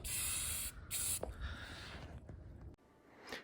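A spray paint can hisses in short close bursts while painting a 1/24 scale crawler model, two loud sprays followed by a longer fainter one, with pauses between.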